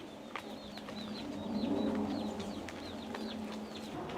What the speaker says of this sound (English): our chickens, babies here running around.